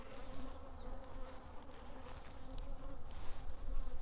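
Honey bees buzzing in a bee yard, a steady dense drone of many insects close by, swelling slightly toward the end with no talking.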